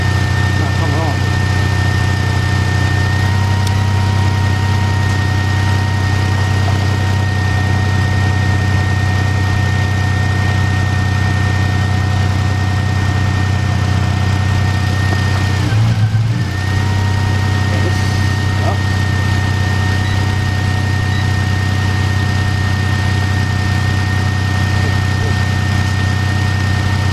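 A 2013 Dodge Charger's 3.6 engine idles with a misfire, a loud, steady low rumble carrying a faint uneven stumble, with one brief dip partway through.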